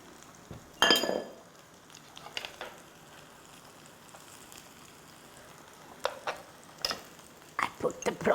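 Egg mixture for a prawn omelette hitting a hot pan, with soft sizzling and scattered clinks of utensils against the pan, including several sharper taps near the end.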